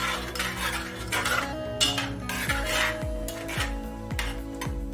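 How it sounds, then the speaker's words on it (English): Metal spoon scraping and clinking against a pot while stirring Weetabix porridge, repeated close strokes in an uneven rhythm. "my spoon is so noisy."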